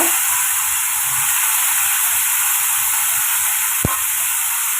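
Chopped bottle gourd and tomato sauté in a very hot pan for a village-style gourd curry, giving a loud, steady, continuous sizzle throughout with one brief click near the end and no talking.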